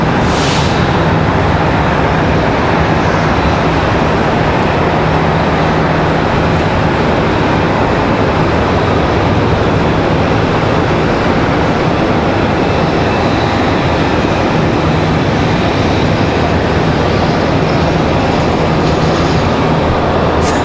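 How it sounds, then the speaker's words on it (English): A Boeing 777 jet taxiing across Charlotte Douglas International Airport, its steady broadband engine rumble and hiss holding loud and continuous throughout, with no speech. "Checking out that 777 cutting across in front of them."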